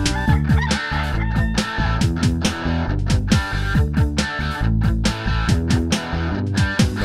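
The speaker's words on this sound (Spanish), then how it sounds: "Sabe que por las mañanas el canto de un gallo la despertará." A rooster crows and clucks amid a loud, steady musical backing in a children's song, the bird calls repeating in short rhythmic bursts up front in the mix.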